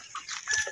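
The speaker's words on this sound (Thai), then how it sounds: "มันเป็นพันธุ์ไก่ตีนี่ล่ะ" Short clucking from a fighting-cock breed chicken on a small backyard farm plot, a few soft uneven clucks close by with no talk over them.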